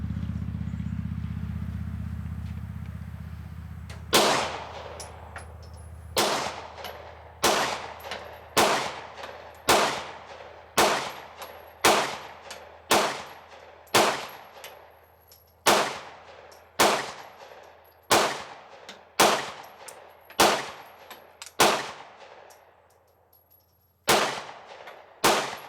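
Gunfire at an outdoor gun range as a magazine is emptied: about a dozen sharp, loud single shots at a slow, fairly even pace, each ringing out with a short echo, after a brief stretch of low rumble.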